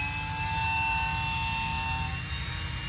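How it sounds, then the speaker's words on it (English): Small handheld Dremel rotary tool grinding on a kit squirrel taxidermy mount, a steady high-pitched whine with a constant drone that runs evenly and close throughout, with no talking. "And then I'll finish this side with my little Dremel."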